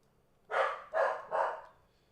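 A dog barks three times in quick succession, loud and close, each bark a sharp burst with short gaps between, the room otherwise quiet.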